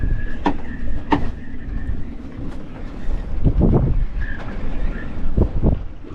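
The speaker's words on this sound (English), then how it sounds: "It's so windy that like a gust of water went over the deck." Strong wind roars across a sailboat at sea in choppy, sporty conditions, buffeting the microphone in gusts with heavy low thumps and surges throughout, no voices.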